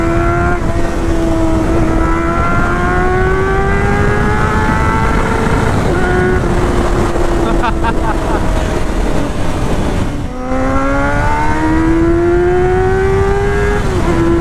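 A 1999 Honda CBR 600 F4 motorcycle revs loudly and steadily, its engine note climbing and holding through long pulls with a brief dip near the end before rising again, close and dominant throughout.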